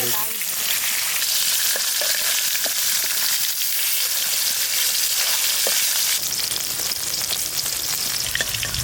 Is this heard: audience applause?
no